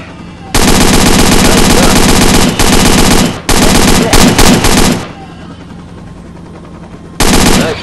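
Rapid automatic gunfire from a helicopter during a hog hunt: loud, close bursts of sustained fire with brief pauses, a final burst after a quieter gap, and faint voices.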